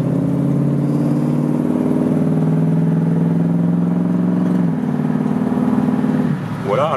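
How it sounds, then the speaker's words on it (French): A loud 1965 Ford Mustang coupe V8 holds a deep, steady drone, then its pitch drops sharply as the automatic gearbox shifts, and it settles into a lower note. "là on a entendu le changement de vitesse, un boîte automatique évidemment"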